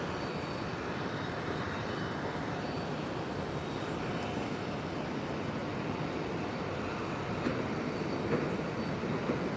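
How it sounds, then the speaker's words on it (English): A tram passes at an airport in a steady, continuous rumble of wheels and motor that builds slightly near the end, with no talking. "Here goes this tram here."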